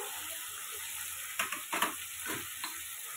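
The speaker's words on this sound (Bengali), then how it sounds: "একটু নাড়াচাড়া করে নিচ্ছি ভালো করে 1 মিনিট মতো" Shrimp curry with coriander-cumin paste sizzles in a hot pan with a steady close hiss, broken midway by a few quick stirring scrapes.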